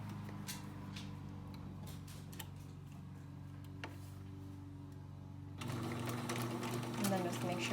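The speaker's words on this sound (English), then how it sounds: "sometimes it's hard for the sewing machine to get through" A sewing machine stitches through thick mask fabric with a rapid mechanical ticking whir, then runs louder and busier for the last couple of seconds, close by.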